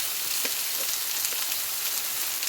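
Drumsticks, green banana and potato pieces frying with salt and turmeric in a pan, a steady close sizzle with faint stirring scrapes and no talking.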